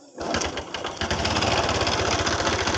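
Motorcycle engine not yet tuned after a piston struck and bent a valve from running out of oil, idling close up with a rough, uneven chugging rhythm that jumps louder after a stumbling start.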